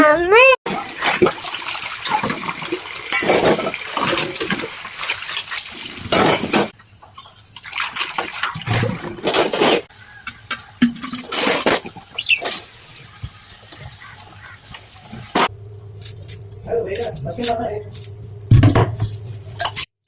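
Dishes, pots and cutlery being scrubbed and rinsed under running water produce repeated close clanks, scraping and splashing in irregular bursts, with a voice speaking now and then.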